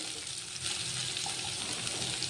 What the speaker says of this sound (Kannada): ಕರಿಬೇವು, ಅದು ಒಂದು 5 ಸೆಕೆಂಡ್ ಫ್ರೈ ಆಗಲಿ